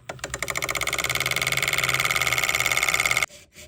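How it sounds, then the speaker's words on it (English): A lathe takes layered solder off the joint of a brass Seth Thomas clock ring gear, giving a steady, close, buzzing mechanical whir with a fast pulsing rhythm that cuts off abruptly near the end. "Remove the bulk of it using the lathe."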